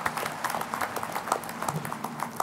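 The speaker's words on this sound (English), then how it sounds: "that deserves a round of applause." Applause from the audience at a 2016 community college commencement ceremony for graduates, a steady wash of many hands clapping at moderate distance for a couple of seconds, with no talking over it.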